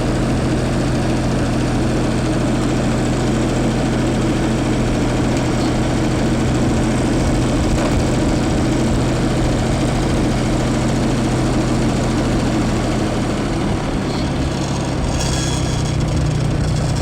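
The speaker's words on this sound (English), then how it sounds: "This tractor with the loader right here" A tractor fitted with a front loader runs steadily while creeping along in low first gear through grass, its loud, low, continuous engine drone filling the whole stretch without talking.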